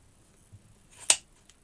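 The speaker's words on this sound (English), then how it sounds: "Watch your fingers with the world's sharpest scissors." Very sharp scissors make a single crisp snip through ribbon while a bow wreath is assembled, a short bright cut in an otherwise quiet room.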